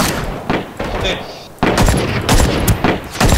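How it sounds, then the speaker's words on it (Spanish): Gunfire in the battle royale shooter Ring of Elysium: loud, rapid shots in close bursts with sharp cracks, a brief lull, then heavier sustained firing to the end, with voices mixed in. "Estoy disparando allá."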